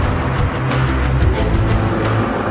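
McLaren F1 car on the move, a loud steady engine drone with the pitch shifting as gears change, accompanied by rhythmic road and wind rushes, no talk.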